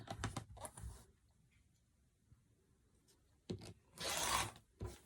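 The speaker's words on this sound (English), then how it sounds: "I'm just going to cut, I don't know, 3, and then I'll come back and cut more in a minute" Fabric pieces for a quilt cut from a bolt, with sharp close rasping cuts and rustles in short bursts at the start and near the end, separated by a quiet stretch.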